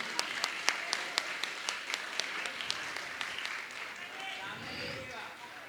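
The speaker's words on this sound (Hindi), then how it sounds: "आपकी तालियां लगातार बजती रहें।" An audience at a Jain religious gathering at Gunayatan, Shikharji claps in a steady, regular rhythm. The moderately loud claps fade out after a few seconds, and a voice speaks underneath.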